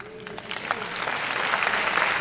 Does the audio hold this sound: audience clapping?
yes